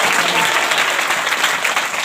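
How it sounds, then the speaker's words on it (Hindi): An audience claps steadily and densely at a Good Friday church gathering, a continuous wash of applause with no voices on top. "अरे बजावत ताली जो बोला है"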